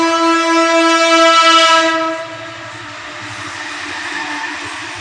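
A passing train sounds a loud, sustained horn for about two seconds, then it cuts off and the rumble and clatter of rolling rail cars carry on close by.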